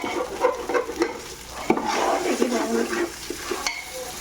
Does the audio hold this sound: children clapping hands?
no